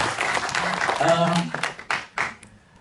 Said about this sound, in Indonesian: kita tepuk tangan untuk yang sudah berjuang mati-matian untuk biar terjadi